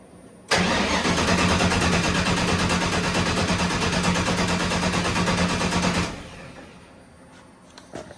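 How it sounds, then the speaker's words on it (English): An engine on FuelTech ECUs cranks steadily for about five seconds without catching, seemingly short of fuel, a continuous loud churning whir, then stops and leaves quiet background. "it sounds like it doesn't have enough fuel cranking"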